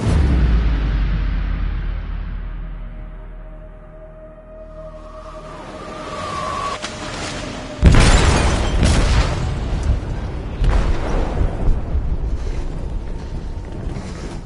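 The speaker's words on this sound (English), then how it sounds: "They detonated an explosive in the hold." Explosive detonating in a ship's hold in the game Detroit: a deep booming blast with a long rumbling decay, then a second heavy impact and continued loud crashing, creaking metal.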